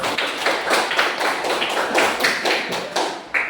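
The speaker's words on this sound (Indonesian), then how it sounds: "kita berikan tepuk tangan buat kelompok 2" A classroom of students claps for the second group after its presentation, a small group of hands producing quick, distinct slaps at a moderate level for a few seconds with no voices.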